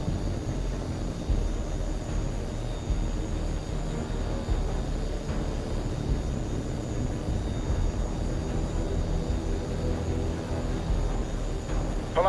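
A fighter jet engine roars continuously in the combat flight game H.A.W.X 2, a loud, steady, broadband rumble with no pauses and no voices.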